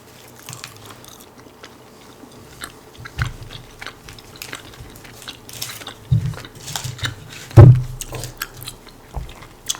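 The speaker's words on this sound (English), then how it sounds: "So I'm gonna take this stick of Airhead's gum and dunk that in my mouth." A stick of Airheads gum is chewed right at the microphone, giving soft, wet, intermittent chewing with irregular squishy bites. One sharp louder crunch stands out near the end.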